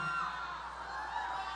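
A record crowd at a Trump campaign event in a Las Vegas hotel cheers and whoops, a continuous distant roar of voices, fairly faint and brief.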